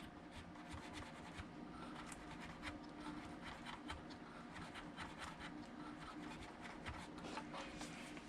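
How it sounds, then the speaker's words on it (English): A model train APT coach wheel being scrubbed clean back and forth, giving a faint, continuous run of quick, close rubbing and scratching strokes with no voices. "clean the wheel by scrubbing it back and forth like this"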